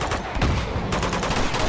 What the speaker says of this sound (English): What the hell are they shooting at?